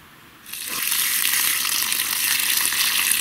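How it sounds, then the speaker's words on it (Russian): A steady hiss of falling rain starts abruptly and continues, loud and even, like a downpour close by, at an excavation of German dugouts. "У нас тут дождик"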